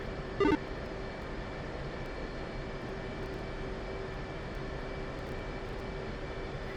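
An F/A-18C Hornet's jet engine whines steadily in the DCS flight simulator, a constant roar with a high tonal hum, heavily loaded before an afterburner takeoff; a brief sharp click sounds near the start.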